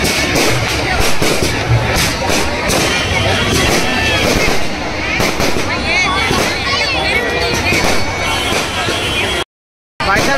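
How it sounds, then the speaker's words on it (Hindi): Loud crackling bursts of fireworks go off amid a noisy outdoor crowd at a Ravan Dahan fair, with wind buffeting the microphone, continuous until a brief cutout near the end. "यहाँ पे आतिशबाजी की जा रही है"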